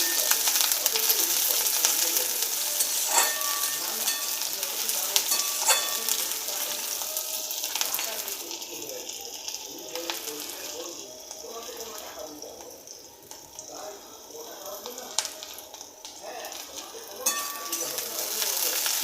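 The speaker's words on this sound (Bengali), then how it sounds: "এর মধ্যে আমি দিয়ে দিলাম পেঁয়াজ কুচিগুলো।" Chopped onions frying in hot oil in a pan, a dense bright sizzle that starts loud and gradually softens, with scattered clinks and scrapes of a utensil and faint background noise.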